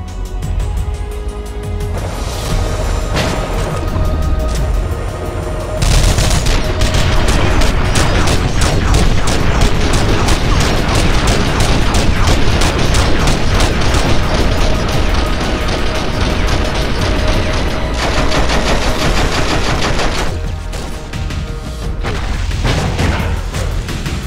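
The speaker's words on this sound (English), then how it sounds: "Grenade launcher." In The Matrix: Path of Neo video game, a grenade launcher fires amid a continuous, dense barrage of loud explosions and gunfire, booming and crashing without letup for over twenty seconds.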